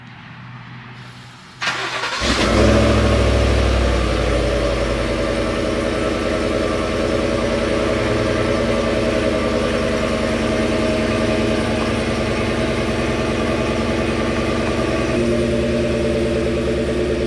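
A rented Chevrolet Suburban starts with a sudden loud engine catch after a quiet moment, then settles into a steady, close engine hum and road rumble that continues evenly to the end.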